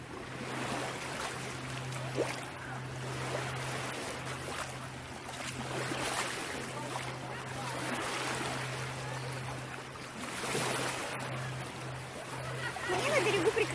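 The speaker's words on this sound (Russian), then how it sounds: "Волны пошли от лодки." River water washing and lapping steadily against the shore as waves from a passing boat arrive, with a low engine-like hum running underneath throughout.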